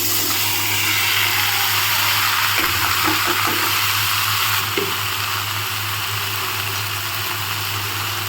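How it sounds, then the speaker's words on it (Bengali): Vegetables fry in a pan where a fish head was just fried, making a constant close sizzle with a few brief stirring knocks partway through and no voices. "মাছ ভাজা করাটা হয়ে গেছে, এবার হচ্ছে এখানে সবজিগুলোকে দিয়ে দেব।"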